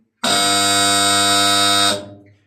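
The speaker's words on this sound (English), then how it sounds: "we have sound signals for emergencies. This would basically mean evacuation." A coal mine emergency evacuation alarm in Croatia: a loud, harsh electronic blare in one sustained buzzing tone for under two seconds, then cuts off with a brief fading tail.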